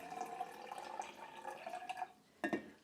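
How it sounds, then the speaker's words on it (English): Herbal fire cider drips through a sprout screen strainer, with a run of small liquid patters and trickles that close on a brighter splash, all fairly quiet and with no talking. "Sometimes I'll lean it against the wall and just let it drip like that."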